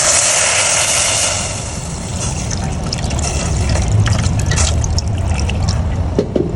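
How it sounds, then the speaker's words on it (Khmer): Water poured into palm sugar caramelised in a pan, a loud, steady, rushing splash and hiss that eases slightly after the first second and then keeps going. "ទៅខ្ញុំចាក់ទឹកចូល"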